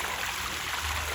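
A small garden pond waterfall gives a brief, steady trickling and splashing of water, fairly close and even, with no voices.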